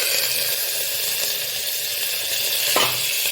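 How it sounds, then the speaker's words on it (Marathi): Soaked rice and spinach sizzle and hiss steadily as they are stirred in a hot pan, a close, constant frying noise with a short scraping stir near the end. "आता हे सर्व मिक्स करून घेते"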